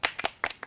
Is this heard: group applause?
yes